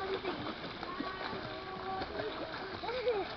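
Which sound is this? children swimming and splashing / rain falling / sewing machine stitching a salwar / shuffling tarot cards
children swimming and splashing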